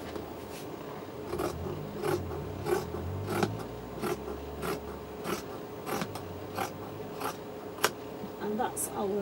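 Scissors cutting fabric for a chooridar belt, a run of close, crisp snipping and rustling strokes in an irregular rhythm, with some soft handling noise between cuts.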